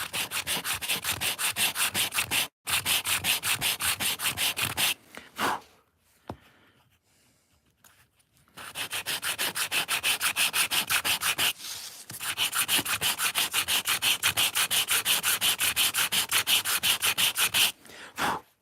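Rhythmic back-and-forth scraping of sandpaper by hand on a miniature wooden chair, in long continuous bursts broken by a few short pauses, close up and alone.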